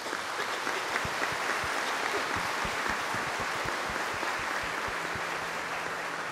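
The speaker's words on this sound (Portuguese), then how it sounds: "Demos um aplauso para ele." A church congregation applauds the bishop at a Mass for Saint Joseph's day: steady, fairly soft, diffuse clapping from many hands filling the space, with no voices over it.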